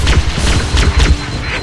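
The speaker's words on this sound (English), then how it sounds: "my rockets are gonna go teach him a lesson" Rocket launcher explosions in the video game Halo: Combat Evolved land as a rapid run of deep, heavy booms, several blasts overlapping in quick succession and filling the whole clip.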